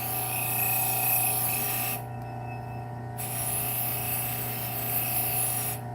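Serrated knife being worked back and forth on a belt sharpener, a steady high grinding whine that runs continuously, briefly easing off for about a second before resuming at full strength.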